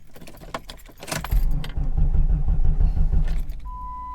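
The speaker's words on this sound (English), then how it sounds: "Now, we're going to start it, and we're going to see if it stays running and doesn't stall." Keys jangle briefly, then a 1996 Jeep Grand Cherokee ZJ engine with evap problems cranks and catches, settling into a steady, loud idle that runs for a few seconds.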